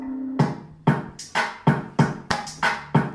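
Sampled hip-hop style beat forming a first verse, punchy drum hits landing in a steady rhythm about every third of a second with a short tonal note at the start, loud and close with no talk.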